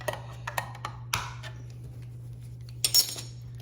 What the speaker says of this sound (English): Pop it open with your handy can opener.